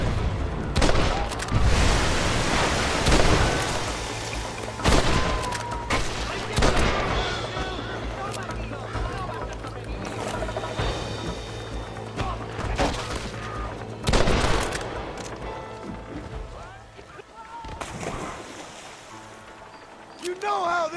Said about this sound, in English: Watch the top of that cliff. They're shooting down on it.